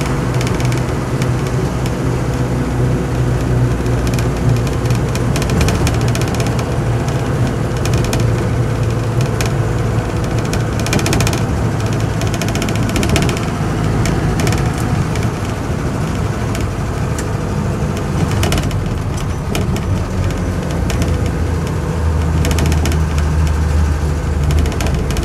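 Land Rover Series 2 88-inch diesel softtop driving along, with a steady loud low engine drone and road rumble throughout, the pitch shifting slightly as it pulls.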